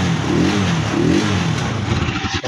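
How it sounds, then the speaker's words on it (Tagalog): A car engine, fitted with a relay for a negative-to-positive trigger conversion, runs loud and steady close by, its low rumbling drone with slight swelling revs throughout and a brief dip near the end. "So start na muna natin yung kanyang motor."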